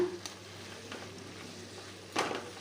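Onions and tomato sautéing in a pan give off a quiet, steady sizzle. A few soft scrapes of stirring come through, with one sharper stir near the end.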